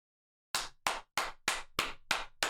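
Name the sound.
hands clapping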